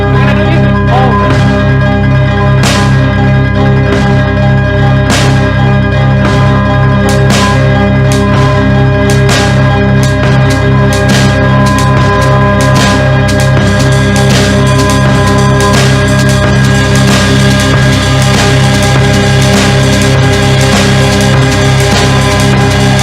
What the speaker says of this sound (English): tried to make sounds from the planets